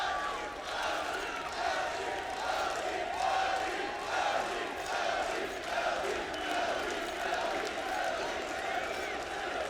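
A large arena crowd at the MLG Columbus CS:GO grand final between Luminosity and NaVi keeps up a steady, roaring wash of cheering and noise, with no break across the stretch.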